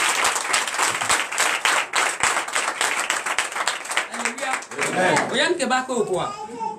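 A church congregation bursts into applause at a worship service: dense, steady clapping from many hands fills the space, and it fades as singing and voices rise near the end.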